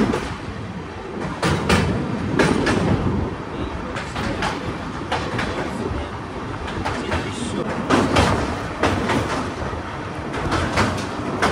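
The Sealdah–Jalpaiguri Road Humsafar Express runs on rails between Malda Town and Shamsi, a steady close rumble broken by a rhythmic clatter of wheels over rail joints, with a faint voice now and then.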